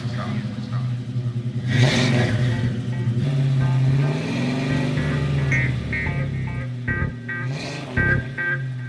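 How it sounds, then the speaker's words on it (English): A car engine rumbles and revs up loudly, rising and falling in pitch for several seconds before easing off, with a couple of short roars near the end. "Get the engine started."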